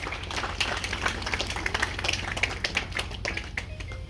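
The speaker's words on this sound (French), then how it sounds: "Vos applaudissements." An audience at an inauguration ceremony for a provincial media office applauds, a dense, close patter of many hands clapping continuously for a few seconds with no talk over it.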